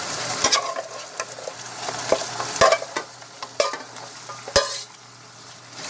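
Pork meat tossed into a pan of potatoes for Kapampangan-style caldereta sizzles steadily while a utensil scrapes and knocks against the pan in irregular stirring strokes, close and fairly loud, with no talking.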